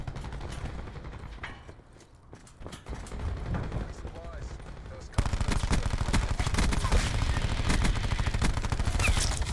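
Rapid bursts of automatic gunfire from a shooter video game, loud and continuous, growing denser and heavier in the second half, with voices talking over it.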